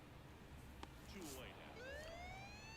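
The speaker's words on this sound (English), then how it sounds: "We sound the sirens." A siren sounds in a baseball video game, a faint rising and falling wail that sweeps upward over a crowd-like background for a couple of seconds.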